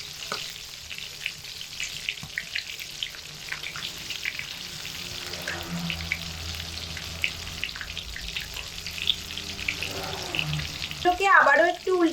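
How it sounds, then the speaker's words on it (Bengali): Cauliflower and potato-egg chops fry in a pan and are turned over and over, giving a continuous close sizzle with scattered crackles and small clinks, plus a short clattering, tonal knock near the end. "বারে বারে উল্টে পাল্টে দিয়ে ভালোভাবে সুন্দর করে ভেজে নেব"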